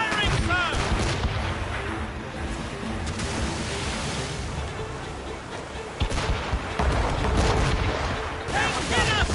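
Cannon fire from warships during a naval battle: dense, rumbling booms and crackling volleys over a constant roar of noise, with voices faintly shouting in the mix.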